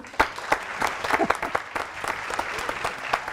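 A studio audience applauds three guests on a French show, giving a fairly light, scattered round of claps with distinct sharp hand strikes over a soft crowd background.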